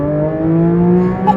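Porsche GT3 engine, a 9,000 RPM car, droning loudly with a steady, rising tonal whine heard from the cabin, sustained throughout with no pauses.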